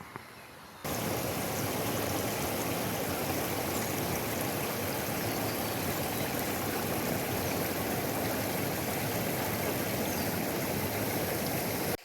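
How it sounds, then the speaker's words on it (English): A creek flows in a steady, broad rushing wash close by, continuous and even from start to finish after a brief quieter opening, with no voices. "alright, so we're headed up along this creek now."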